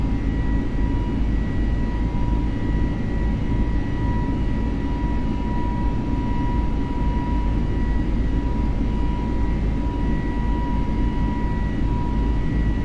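Airbus A320 airliner climbing at climb thrust with flaps at position 1, simulated in Microsoft Flight Simulator: a loud, steady engine roar with a faint whine held level throughout, no speech.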